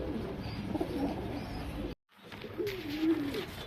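Pigeons cooing softly and steadily at close range in a quiet space, with a brief silent gap midway before the low cooing resumes.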